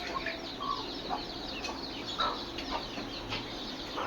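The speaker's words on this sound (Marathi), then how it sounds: "आपल्याकडे प्युअर गावरान पक्षी आहेत" Pure desi gavran chickens, multi-coloured birds about two and a half to three months old on a poultry farm, cluck and call intermittently at moderate distance, with occasional brief wing flaps and no talking.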